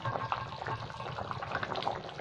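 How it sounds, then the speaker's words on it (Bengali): Bengali fish curry with potato and cauliflower bubbling in a pot, a steady close simmering hiss with soft irregular bubbling throughout, no talking. "ভালো ফুটছে ঝোলটা আমার"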